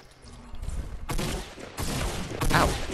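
Gunfire in the Fortnite video game comes as rapid volleys of shots in several bursts, loud and close, with each burst breaking off sharply.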